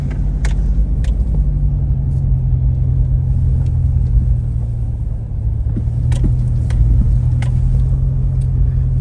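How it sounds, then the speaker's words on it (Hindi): A car drives during a site visit to a housing development in Islamabad, its engine a steady close rumble with road noise, a few sharp clicks and knocks punctuating the drone. "अपनी गाड़ी के ऊपर यहाँ पे साइट विजिट करता हूँ"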